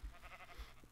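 A sheep bleats once in a video game, a short, faint, wavering nasal cry over low background rumble.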